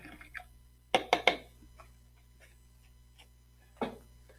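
A paintbrush is swished and tapped in a water container while painting a red color wheel, giving a quick cluster of three close wet knocks and splashes, then one more near the end, with quiet gaps between.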